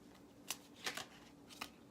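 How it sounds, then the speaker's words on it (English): A deck of tarot cards is shuffled by hand in a quiet room, giving three short, crisp riffling bursts, soft and close. "I want to pull another card."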